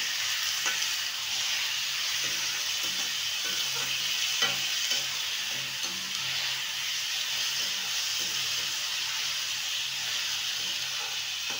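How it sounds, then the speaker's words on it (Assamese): Meat sizzles and fries in a hot pan while being stirred, a dense, steady hiss with faint scraping clicks of the utensil throughout. "এতিয়া মই মাংস দি দিছোঁ, তাৰপৰা লৰাই আছোঁ।"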